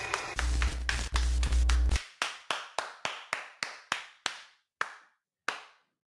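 Clapping that starts mixed with a loud low hum and busy sound, then turns into a sparse series of about a dozen sharp, isolated claps spaced roughly half a second apart, slowing and thinning out toward the end.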